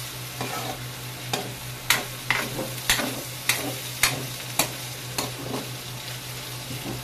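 Ground meat and eggplant stir-fried in a pan, a steady sizzle broken by repeated sharp scrapes and clacks of a spatula stirring every half second or so, with no talking.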